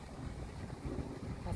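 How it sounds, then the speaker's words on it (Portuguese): Wind buffeting the microphone at a fishing pond, a steady low rumbling roar that fills the whole moment without a break, with no voices over it. "mas com muito vento é difícil, né?"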